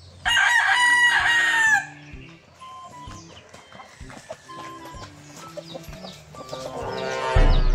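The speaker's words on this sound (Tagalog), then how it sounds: "Tanawa, daghan kay manok no." A rooster crows loudly and close at the start, then chickens cluck repeatedly with soft rhythmic knocking, and another rooster crow begins at the end.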